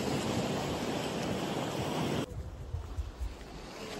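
Sea waves at Tajpur beach, a loud broadband wash of surf and wind that drops abruptly midway to a quieter, rumbling shoreline murmur.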